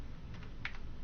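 A few quick, soft keystrokes tapped on a computer keyboard, close by in a quiet room, one click slightly sharper than the rest.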